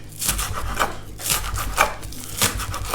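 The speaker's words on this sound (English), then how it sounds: "just roughly chopping the spring onions, quite largish" A knife roughly chops spring onions into largish pieces on a board, with repeated crisp cutting strokes in an uneven rhythm, close and clear, and no talking over them.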